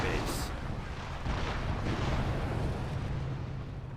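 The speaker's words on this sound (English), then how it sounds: "A blind barrage right there." Artillery barrage in Company of Heroes, rumbling booms and rolling blasts layered over a low roar, with one sharp crack near the start, dense and continuous for the whole stretch.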